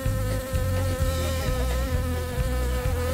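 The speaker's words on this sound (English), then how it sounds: "There's a bee." A bee buzzes steadily close by, a loud continuous drone with slight wavering in pitch, heard alone with no talking.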